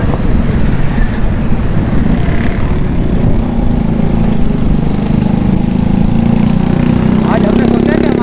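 A motorcycle engine drones loud and steady at close range while the rider pulls in to park at a busy food street in Nagan Chowrangi, Karachi, with a constant low rumble throughout.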